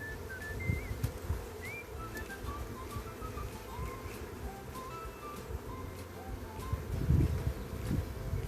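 Honeybees at an open beehive give a steady low buzzing throughout, with birds chirping faintly in the background and a brief louder swell near the end.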